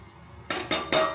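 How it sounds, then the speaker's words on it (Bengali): Peas are stirred in a metal cooking pan, with three distinct scraping clinks of a utensil against the pan in quick succession, close and moderately loud with no talk. "মটরটা দিয়ে আবারও ভালো করে নেড়ে চেড়ে কষিয়ে নেবো ভালো করে"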